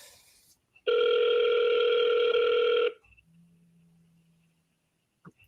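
One long electronic ring tone sounds for about two seconds on an outgoing phone call to a seller, followed by a faint low hum and near silence.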